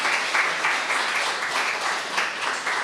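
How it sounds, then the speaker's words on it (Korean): A church congregation claps during a Sunday service to welcome a member, a dense, steady round of applause from many hands with no talk over it. "정영숙 성도님 한번 일어나시면 박수로 환영하겠습니다"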